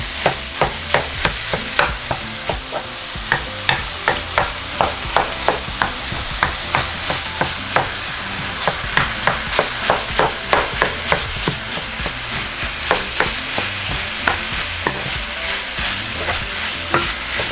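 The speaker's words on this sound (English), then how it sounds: "Okay, so now I'm just going to add my meat. Break it down a little bit." Ground beef fries and sizzles in a pan while being stirred and broken up, steady sizzling punctuated by regular scraping strokes of a utensil, close and clear with no talking.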